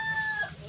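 A rooster, a fighting cock, crows in a single short, loud call close by.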